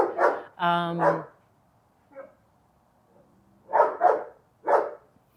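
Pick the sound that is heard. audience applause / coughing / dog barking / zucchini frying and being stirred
dog barking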